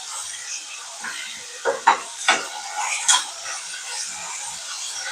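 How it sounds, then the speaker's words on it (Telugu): A utensil stirs onions in a pan over high heat for Telugu-style egg curry, giving a few scraping clacks against the pan over a faint sizzle. "కలుపుతూ ఉండాలి కొద్ది హైలోని బెడ్లోనే కలుపుకోవాలి"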